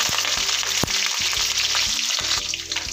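Curry leaves fry in hot oil for a garlic kuzhambu, giving a loud, continuous close-up sizzle with crackling pops and a few stirring knocks in the pan.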